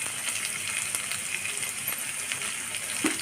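Onion fries in a pan for rava upma, giving a steady, moderately loud oil hiss and sizzle throughout, with a soft knock near the end.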